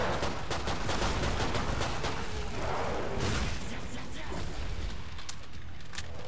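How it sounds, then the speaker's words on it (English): Explosions and gunfire in the video game Killing Floor 2 form a dense, continuous barrage of loud bursts and booms, with rapid shots layered over one another for the whole stretch. "There's explosions happening everywhere."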